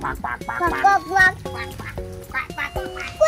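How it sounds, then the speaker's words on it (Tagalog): A white duck quacks repeatedly in quick, nasal bursts close by, mixed with people chatting nearby. "Ang cute ng duck, Kanami."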